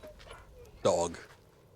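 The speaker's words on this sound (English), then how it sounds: "And who's this fine hound I see before me?" A dog in the video game Final Fantasy XVI gives a single short bark or whimper, loud and close, with game speech and ambience around it.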